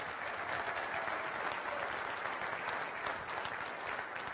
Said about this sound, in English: Why don't we give her a nice round of applause?